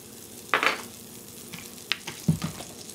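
A tablespoon of spreadable butter being pushed around a skillet to melt gives soft, faint sizzling with a few distinct scrapes and taps of the utensil against the pan.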